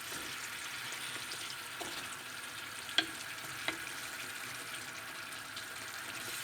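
Shrimps being stirred through a sauce in a pan give a soft, steady frying sizzle, fairly quiet throughout, with a couple of brief scraping clicks from the utensil partway through.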